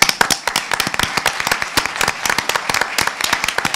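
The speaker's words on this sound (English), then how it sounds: "So if you would stand up, let's applaud your work." An audience at a Pittsburgh summer learning forum applauding district employees and providers: dense, lively clapping from many hands, close and steady throughout the short burst.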